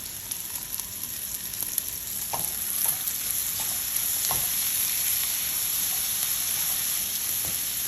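Peppers fry and sizzle in a pan with shallot, a steady close hiss with occasional faint clicks of stirring, and no talking.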